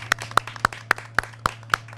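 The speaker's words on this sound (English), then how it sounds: "I want to give a big round of applause to you all for what you have done for the city of Annapolis." Rhythmic clapping at an award ceremony for a land manager of the year, about eight sharp, evenly spaced claps over two seconds, close and distinct, with a faint steady hum behind.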